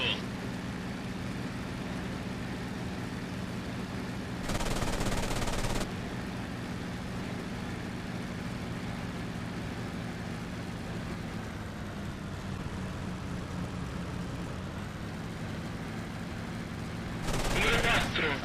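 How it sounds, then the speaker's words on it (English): Two short bursts of rapid aircraft cannon fire in the flight game IL-2 1946 cut through a steady jet engine drone, each lasting about a second, with background engine hum throughout. "we used cannon on that one, got good effect"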